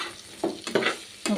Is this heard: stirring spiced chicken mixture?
yes